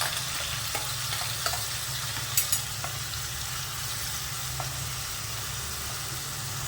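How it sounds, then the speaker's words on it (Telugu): Onions and a coarse ground paste fry in a pan for a banana curry, a steady close sizzle with a few light stirring clicks and scrapes, no talk. "ఉల్లిపాయలు వేసుకున్నాక ఇలా కాస్త వేగితే సరిపోతుంది."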